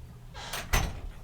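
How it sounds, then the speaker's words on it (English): A house door is pulled open to let a cat in or out: a soft rustling swell, then a sharp, brief thud-like knock, fairly close and alone without talk. "Hold on, I gotta open the door for my cat."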